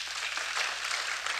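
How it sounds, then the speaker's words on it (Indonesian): Church congregation clapping in praise during a worship sermon, a dense, steady wash of many hands held at a fairly even level through the whole short burst, with no voices on top. "Tepuk tangan buat Tuhan."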